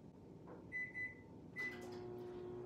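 Kitchen microwave oven running to heat flour for edible cookie dough: a low steady hum with a pair of short beeps, a clunk, and another beep, faint and close with no talk.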